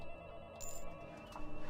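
A telephone rings inside the video game The Coffin of Andy & Leyley, a quiet electronic bell tone sounding once over a low hum of game background noise.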